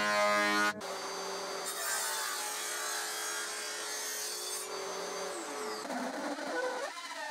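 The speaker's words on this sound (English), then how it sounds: "Then I ran both slices through the thicknesser a few times with the final pass set at its minimum thickness" A thicknesser planing thin slices of pine, a loud whining machine drone with a rough cutting hiss over it, steady for several seconds, then shifting as the pass ends, heard close without speech.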